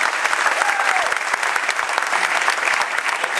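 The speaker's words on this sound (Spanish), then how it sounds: "Pido un fuerte aplauso." Applause from the audience at a dance school showcase for advanced teens, a loud, dense, unbroken wash of clapping that fills the room from start to finish.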